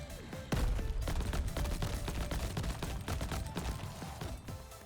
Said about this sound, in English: Pop that airstrike down.